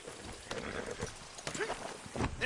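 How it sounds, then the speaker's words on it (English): Horse hooves clip-clop at a steady walk in a Western video game on PS4, moderately close, with faint snorting and ambient game sounds around them. "Load Anders onto the back of your horse there"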